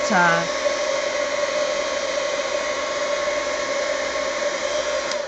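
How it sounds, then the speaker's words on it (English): A heat gun dries an art journal page colored with pencils, blowing a steady, loud whoosh that runs unbroken throughout, with a brief voice at the very start. "let me dry this heat gun"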